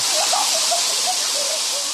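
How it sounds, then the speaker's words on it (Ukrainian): Water sprays and splashes continuously from a city fountain in Kyiv during a heat wave. The rushing hiss is loud and close, with faint voices mixed in behind it. "Дуже гарно, коли є такі фонтани, можна трошки охолоднути."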